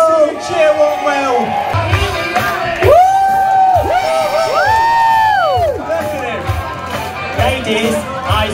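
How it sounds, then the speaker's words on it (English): A lively crowd at a holiday resort cheers and whoops as a wrestler enters the ring, with loud shouts, high children's screams and rising calls layered under an announcer's voice. "Please welcome to the ring, it's Nathan Angel! Yes, cheer Warmwell!"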